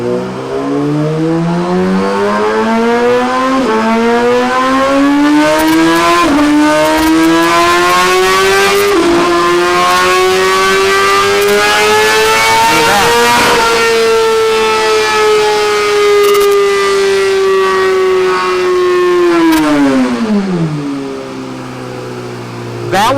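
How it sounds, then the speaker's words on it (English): 2017 Suzuki GSX-R1000 motorcycle on a dyno accelerating hard through the gears, its loud engine whine climbing in pitch, dropping briefly at each shift and rising again before easing off, close and continuous. "I'm going to take off here in first gear, just like I'm going for a ride."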